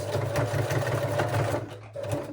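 A sewing machine runs a straight stitch in a steady, close whirring burst that briefly stops near the end and then starts again, as if changing direction to secure the seam.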